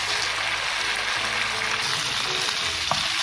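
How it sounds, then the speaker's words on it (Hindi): Chicken tikka pieces coated in masala frying on high flame, a dense, loud, continuous sizzle close up with faint stirring scrapes and no talk. "अब हम इसे हाई फ्लेम पे अच्छे से पकाएंगे ताकि जितना भी मसाला है वो हमारे चिकन की बोटियों के साथ अच्छे से लग जाए"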